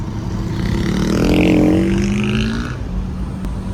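A 1998 Audi B5 with a turbocharged four-cylinder engine accelerates, its engine note rising and swelling loud over a couple of seconds before easing off, alone without talk.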